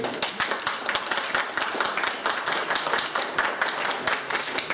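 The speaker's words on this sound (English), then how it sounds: "Let's clap for ourselves." A group of children clap together in a classroom, quick uneven hand claps in a close, steady burst that runs throughout.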